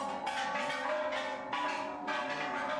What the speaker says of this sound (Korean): 중간 정도 올랐을까 종소리가 들려왔다